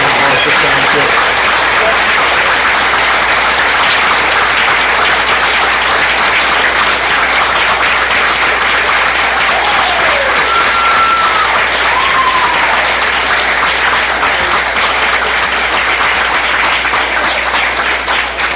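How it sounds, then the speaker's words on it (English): Loud, sustained applause from a large crowd at a school board meeting, dense steady clapping filling the whole stretch without a break. "How about another round of applause for what great professionals we have here"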